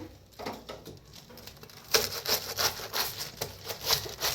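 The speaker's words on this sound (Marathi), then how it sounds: "आता ह्यांना बारीक असं कापून घ्यायचं आहे।" A knife finely chops capsicum, carrots and onion on a board for momo filling, with quiet scraping at first, then a run of quick close rhythmic taps.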